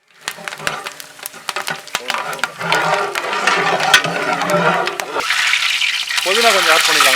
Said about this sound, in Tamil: ஸோ மிதமான சூட்லேயே வதக்கினா தான் வந்து கரெக்டாக இருக்கும்